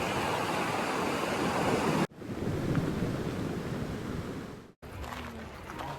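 Ocean surf along the rocky shore path between Sand Beach and Thunder Hole in Acadia National Park on a foggy day, a loud continuous wash of waves mixed with wind buffeting the microphone, briefly cut twice.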